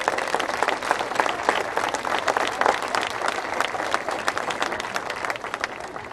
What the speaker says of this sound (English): Please help me thank them with a round of applause as well